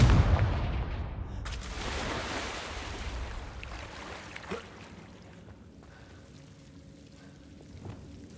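A Confringo blasting curse erupts in Hogwarts Legacy with a loud, booming explosion at the start, then a roaring rumble that slowly fades away. A smaller thud follows midway, and no voices are heard.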